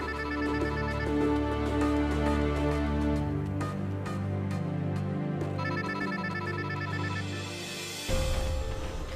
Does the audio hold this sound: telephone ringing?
yes